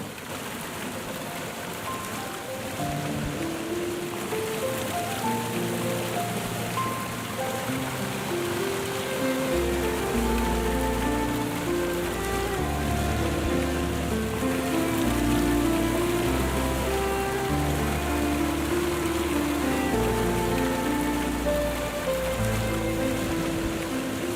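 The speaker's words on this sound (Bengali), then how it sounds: "বৃষ্টিটা দেখছি আরও বেশি পড়ছে" Heavy rain pours steadily in an animated riverside scene with a boat on the water, a dense continuous hiss of drops with low-pitched background music running underneath and no talking.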